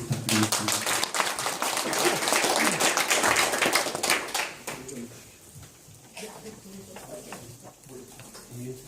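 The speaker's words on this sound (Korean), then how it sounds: "박수 한 번 더 부탁드리겠습니다" An audience at a concert claps in a dense burst of applause that fades after a few seconds, followed by someone speaking.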